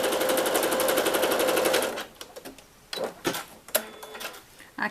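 A sewing machine runs a steady fast stitching burst while sewing a decorative seam in contrasting thread, then stops, followed by scattered clicks and handling noises nearby.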